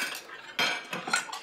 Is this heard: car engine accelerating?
no